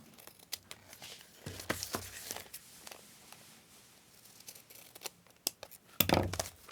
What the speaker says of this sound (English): all I've got to do is just cut off those little triangles